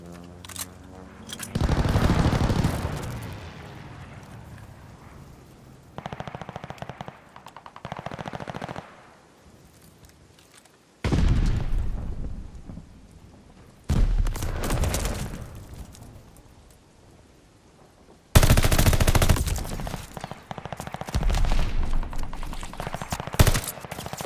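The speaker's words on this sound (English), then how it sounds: "Hostile strafe inbound." Strafe run gunfire in the multiplayer video game Call of Duty: Vanguard, loud bursts of rapid machine-gun fire coming in several separate waves with short quieter gaps between them.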